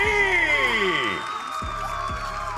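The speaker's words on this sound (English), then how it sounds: "I'm hearing the hoots and the hollers out in the crowd for them" A crowd at a Valorant esports match hoots, whoops and cheers for team 2G as they are welcomed to the stage, a loud, continuous roar with high whistling calls.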